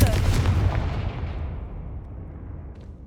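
A Confringo fire spell cast in the game Hogwarts Legacy, heard as a loud booming blast that rumbles and slowly fades out over a few seconds.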